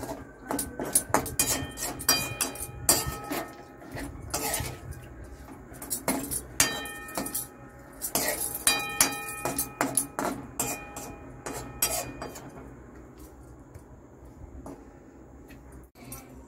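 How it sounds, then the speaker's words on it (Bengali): Marinated meat pieces being mixed with spices and other ingredients in a bowl, with repeated clinks and scrapes of a utensil against the dish at close range. The sounds come in steady bursts, with no talk. "ভালো করে একসঙ্গে সমস্ত উপকরণগুলোকে মেশাতে হবে যাতে মাংসের প্রতিটি পিসের মধ্যে"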